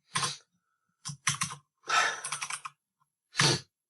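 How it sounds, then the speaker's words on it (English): Typing on a computer keyboard, four short bursts of close, crisp key clicks separated by brief pauses, the third burst longest, with no talking. "let me actually type in hello again."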